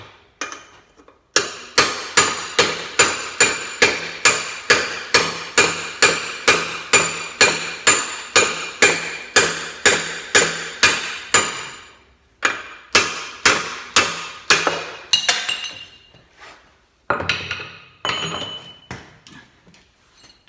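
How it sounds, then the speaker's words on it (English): A control arm bushing shell from a 1968 Chevrolet El Camino SS 396 rear suspension is hammered out: a long run of steady, loud metallic blows, each ringing briefly, then a short pause and a few more irregular strikes. "the next thing you do to get this thing out, the shell out, is just hammer it out."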